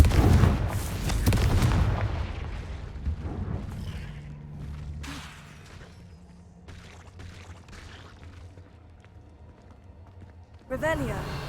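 A Confringo spell blast in the video game Hogwarts Legacy opens with a loud, broad booming burst, then fades into quieter game ambience and scattered effects before a sharper sound near the end.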